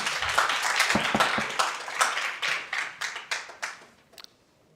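Audience applause at a school board meeting, a dense patter of clapping that thins into fewer, separate claps and dies away near the end.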